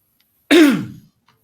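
A single throat clearing, close and fairly loud, a short rasping burst lasting about half a second and fading out against silence, from a man with a dry throat.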